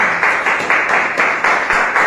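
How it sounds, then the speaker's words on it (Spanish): A church congregation claps in loose, pulsing bursts during a Spanish-language sermon, loud and close, with no voices over it. "Denle un aplauso a Dios, hermanos"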